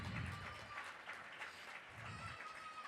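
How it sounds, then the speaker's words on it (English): Crowd applause at a girls' basketball game, KCLP vs Whitley: steady, fairly faint clapping from a large audience in a gym, continuous throughout with little talking. "give a big round of applause for Madeline Marcy"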